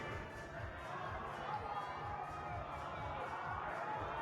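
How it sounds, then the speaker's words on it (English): Spectators at an open bouldering national championship semi-final cheering a climber on toward a hold, a steady rhythmic crowd roar with clapping that stays at one level, under a commentator's voice. "Crowd really exhorting him to go for this hold here."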